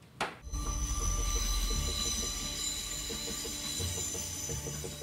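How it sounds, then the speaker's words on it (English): Train wheels screech on tracks beside homes, giving a sustained, piercing metallic squeal over a rumbling rail roar. The noise stays loud and close throughout after a brief thump at the start. "These families are going loco over screeching trains on their doorstep."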